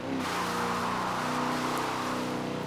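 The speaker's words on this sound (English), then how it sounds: "You want to see a real muscle car do its work." A Firebird Trans Am V8 muscle car accelerates hard, a loud close engine roar with a rising rev tone holding strong across the whole stretch, no talking over it.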